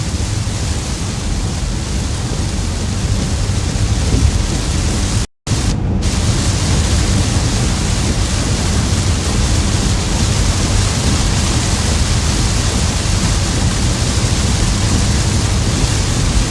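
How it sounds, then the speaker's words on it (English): Heavy rain pours down on a car being driven through a storm in the South, a loud, dense, unbroken hiss like static that swamps everything else, cut by one sudden gap of near silence about halfway through. "Can't even hear my own turn signal anymore. That's how loud the rain is."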